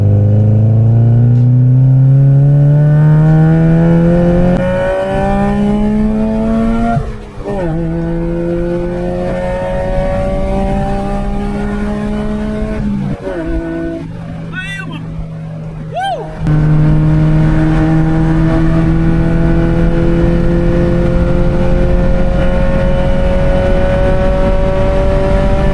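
A 1999 Honda Civic SiR VTEC engine revs hard in second gear, its pitch climbing steadily in long pulls broken by short dips and shifts, loud and close throughout.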